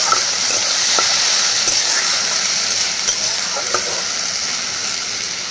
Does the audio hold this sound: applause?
no